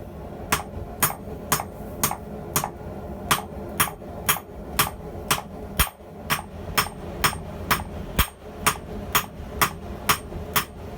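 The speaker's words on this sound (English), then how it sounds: "This stuff is a pleasure to hammer on" Steady, ringing hammer blows on steel on an anvil while forging tongs, about two strikes per second, each a bright clang over a low workshop hum, continuing evenly throughout.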